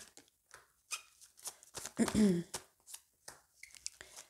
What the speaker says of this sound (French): Donc, on recouvre avec 3 cartes.